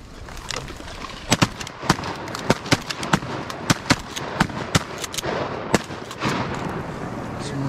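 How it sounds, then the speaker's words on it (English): Shotguns fire in a rapid volley of a dozen or more sharp, loud blasts, close and overlapping, as hunters shoot at mallard ducks, with voices heard between the shots. "I hit him on the first shot"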